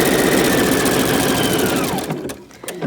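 A sewing machine stitching bunched T-shirt fabric for a face mask runs with a loud, close, steady whir for about two seconds, then stops and leaves a few small handling clicks.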